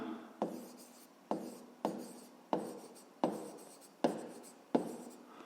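A pen writes on paper in seven regular strokes, each starting with a sharp tap and trailing into scratching, close and alone, as a math exercise solution is written out.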